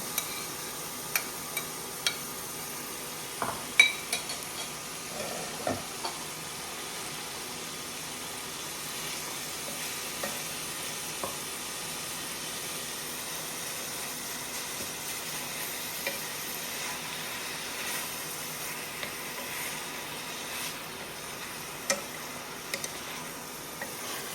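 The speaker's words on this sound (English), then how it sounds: "So we're going to add the ground beef in. We want to get this nice and brown." Ground beef browns in a pan for chili, giving a soft, steady sizzle with scattered light clicks and stirring scrapes throughout, fairly quiet and with no talking.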